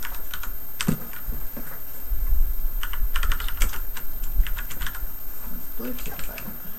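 Rapid clicking on a computer keyboard in bursts of keystrokes with short pauses, close by over a steady low room hum, with a faint voice now and then underneath.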